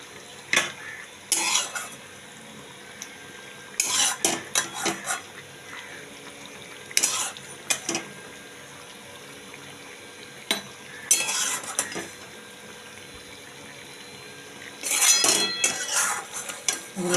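Large chunks of onion and tomato tossed in a kadai and added to a pot with potatoes for chicken do pyaza, bursts of metal clatter and stirring scrapes between quieter pauses, with faint sizzling underneath.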